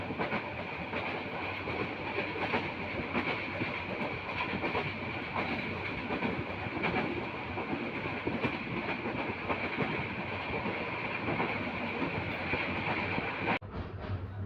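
A moving passenger train on a journey toward Chittagong, Bangladesh, heard from inside as a constant loud rumble with rhythmic clickety-clack of wheels on the rails and a steady hiss, with no talking.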